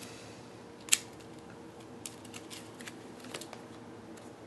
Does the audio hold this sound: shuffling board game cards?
yes